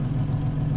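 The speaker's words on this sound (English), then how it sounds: "see how it does the surging? Like it doesn't quite disengage unless you put it in neutral." A Mack R 2-stroke truck engine in American Truck Simulator gives a brief, steady low rumble close up, heard on its own for under a second.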